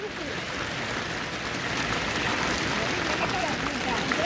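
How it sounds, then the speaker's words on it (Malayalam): Heavy rain pours down steadily near a boat trip through the Vallikkunnu mangroves, a dense, even hiss that stays loud throughout, with faint voices underneath. "ആ കേറുന്ന പോലെയുള്ള നല്ല മഴയാണ്"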